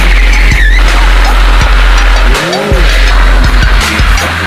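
A cross car at Raceway Venray arriving with skidding, squealing tires and a loud, close engine, with brief chirps and a strong low rumble throughout.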